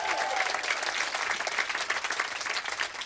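Listeners in a room on the 8th floor of the Chorus Key building applaud and cheer, a dense burst of clapping with some whoops, steady and close throughout.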